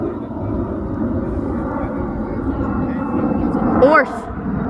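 Delta airliner on approach to runway 05 with its gear down, a steady distant engine roar rising slightly toward the end, heard under people talking.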